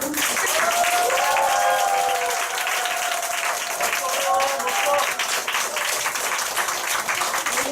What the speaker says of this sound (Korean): 우리 자신들을 위해서 뜨거운 박수와 함께